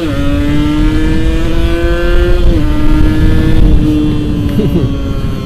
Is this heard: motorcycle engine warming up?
yes